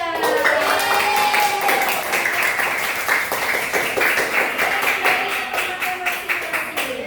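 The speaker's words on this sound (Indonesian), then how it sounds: "Kasih aplaus untuk kelompok 3" Students in a classroom clap for group 3, rhythmic applause that carries on throughout with a voice talking over it.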